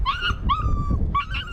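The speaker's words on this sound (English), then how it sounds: "An adorable litter of foster puppies" A litter of foster puppies whimpers and yips close by: three short high-pitched whining cries in quick succession over a low rumbling background, each cry rising briefly then sliding down.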